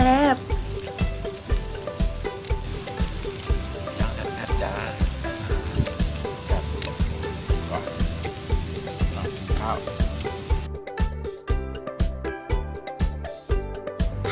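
Pork sizzles and crackles steadily on a hot tabletop grill plate at a campsite, with continuous popping and clinking utensils throughout.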